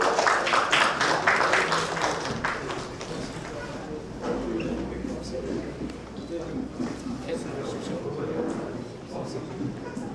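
Audience clapping in support of a candidate at a press conference, a dense round of applause up front that thins into scattered claps under crowd chatter and talking voices.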